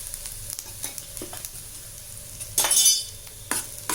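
Mustard seeds, dried red chillies and ground pepper, cumin and garlic fry in a pan of oil for coconut milk rasam, a faint sizzle broken by sharp crackles and popping bursts, with light clinks of a utensil against the pan.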